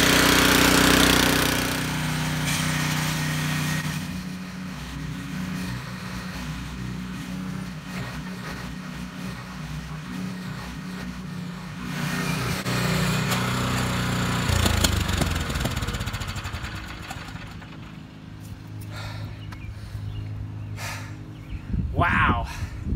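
A rented gasoline tiller works garden soil, its engine rumbling loud and rough, surging and easing, then dropping off near the end while a person talks and gasps over it.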